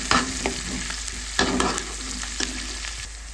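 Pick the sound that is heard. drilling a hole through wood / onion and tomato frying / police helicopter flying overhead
onion and tomato frying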